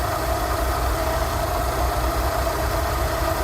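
A Rolls Royce Silver Shadow engine idles steadily during carburettor tuning, a close, even low rumble with a constant mid-pitched hum and no speech.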